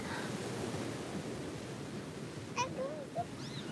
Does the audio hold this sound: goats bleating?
no